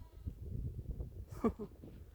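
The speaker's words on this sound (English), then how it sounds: "There's some sheep." A single short sheep bleat rises midway through on a hillside beneath the mountains in March, with patches of snow still lying about. It sounds fairly distant over a low, steady outdoor rumble.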